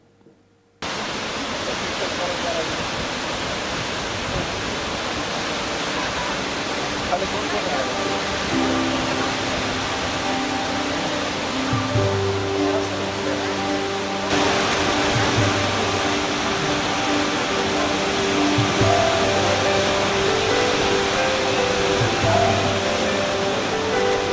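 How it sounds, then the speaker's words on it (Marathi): The Sautada waterfall in Patoda taluka, Beed, pours in full spate as a loud, steady broadband roar that never lets up, with faint tonal hum and possible murmuring voices underneath. "बीडच्या पाटोदा तालुक्यातील सौताडा धबधबा ओसंडून वाहतोय।"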